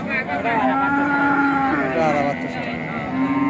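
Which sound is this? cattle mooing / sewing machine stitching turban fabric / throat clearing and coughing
cattle mooing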